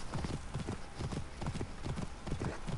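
A video game horse trots along with quick, regular clip-clop hoofbeats, roughly a dozen close, even strikes with a hint of a whinny and no talking on top.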